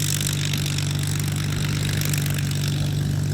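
A warbird's piston engine, a Messerschmitt Bf 109G or Spitfire Mk IXE, idles before takeoff with a steady, loud, continuous drone and low throbbing rumble.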